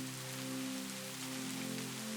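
Rain falls steadily on surfaces as a dense, even hiss, loud and continuous, with a faint low tonal hum underneath and no voices.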